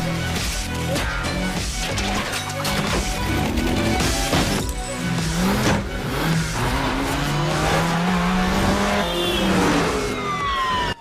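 Car engines from the racing video game The Crew rev and roar loudly and continuously, with squealing tires, crash impacts and a dense layered game mix throughout.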